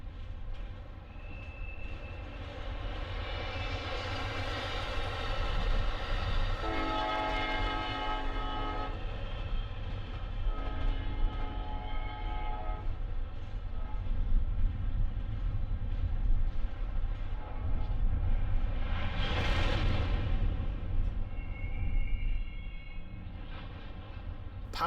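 An eastbound manifest freight train hauled by two Union Pacific diesel locomotives rumbles past steadily for the whole stretch, with a horn-like tone sounding partway through and a brief swell of noise near the end.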